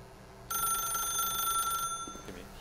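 A telephone bell in The Stanley Parable rings in one sustained electronic trill lasting over a second, loud and close, then stops abruptly, leaving a quiet room.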